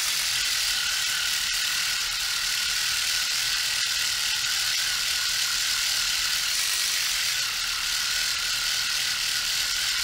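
A Dspiae reciprocating sander working a surface, giving a steady, dense buzzing whir that runs unbroken and fairly loud, with no voices.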